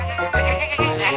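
Cartoon sheep bleat in a quick run of wavering, nasal calls on a farm hillside, several overlapping bleats close and loud with no talking.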